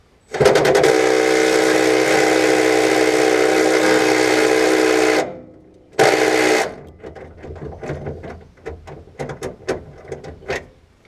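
A 1/2-inch pneumatic impact wrench at 200 psi hammers on a rusted auxiliary fuel tank bolt of a 1996 Ford F250, a loud steady rattling burst for about five seconds, a short second burst, then scattered clanks and knocks.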